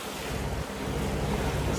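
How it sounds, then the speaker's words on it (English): Loud, steady roar of 25-knot wind and choppy water against a sailboat on the Intracoastal Waterway in Florida, with constant wave wash and wind buffeting the microphone and no voices. "We have about 25 knots of wind and a pretty good chop with the current against us."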